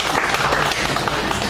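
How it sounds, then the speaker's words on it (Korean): A church congregation at a Sunday service applauds, a dense, steady clapping from a crowd that stays loud and close for a moment. "우리 권지사님 박수 한번 보내줘야 돼요"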